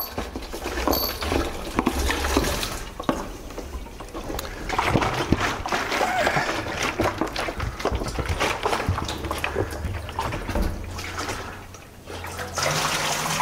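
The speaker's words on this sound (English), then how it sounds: "Again, just rinsing it with ordinary tap water is fine." A water jug being rinsed with ordinary tap water after disinfecting with bleach, giving continuous close sloshing and splashing that runs steadily for over thirteen seconds.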